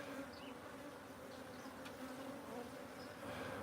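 Bees buzzing around hive boxes at a bee sanctuary, a steady, low, continuous hum of many insects close by, with occasional louder passes of single bees and no talking.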